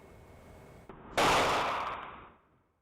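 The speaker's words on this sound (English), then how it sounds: "You heard that gunshot there." A single sharp gunshot cracks out loudly after a quiet stretch at an apartment complex, then rings and decays over about a second.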